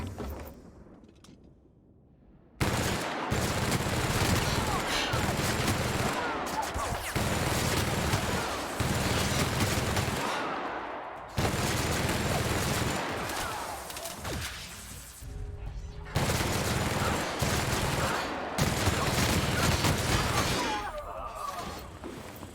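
Bursts of video game gunfire, a PC prison-break shooter, come in dense repeated volleys with short gaps between them, loud and close, after a quieter opening.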